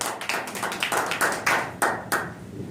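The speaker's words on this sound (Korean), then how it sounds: "우리 장로님께 큰 박수." Applause in a church service: a small congregation claps in uneven, sharp bursts that thin out toward the end, fairly close and clear with no talking over it.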